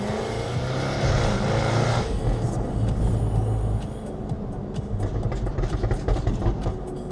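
A car accelerates hard with a loud, close engine roar for a couple of seconds, then eases off to a lower rumble with wind and road noise; a few faint voices come through.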